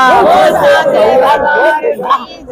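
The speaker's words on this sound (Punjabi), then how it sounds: "ਜੈਕਾਰਾ ਸ਼ੇਰਾ ਵਾਲੀ ਮਾਂ ਦਾ" A crowd at a Durga temple shouts the jaikara chant for Sherawali Maa, a loud, close burst of massed voices rising together over about two seconds, then tapering off.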